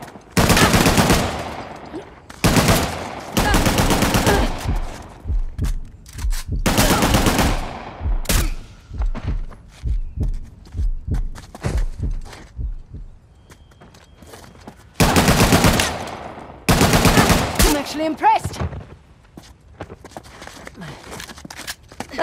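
Bursts of gunfire from the video game Uncharted: Legacy of Thieves, set in the Western Ghats: loud, rapid automatic volleys in repeated clusters, with quieter scattered shots and brief voices between them.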